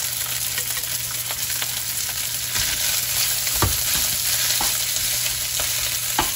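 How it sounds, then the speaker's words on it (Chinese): Overnight rice being stir-fried in hot oil in a wok, a steady loud sizzle with repeated scraping and clacking of the spatula as it is tossed and stirred, no voices. "咁跟住啲油滾啦，你見到咁開始咧，跟住落飯啦，落咗啲隔夜飯。"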